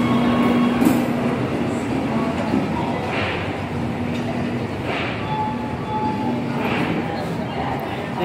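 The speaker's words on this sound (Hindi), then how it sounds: "यह Gorakhpur Secunderabad super fast express जो सिकंदराबाद से चल करके फलारसा और नागपुर के रास्ते होते हुए निकलती है" Gorakhpur–Secunderabad Superfast Express train running on the rails, a steady rumbling roar with faint clinks and rhythmic clatter, heard from nearby and continuous, with a voice speaking over it.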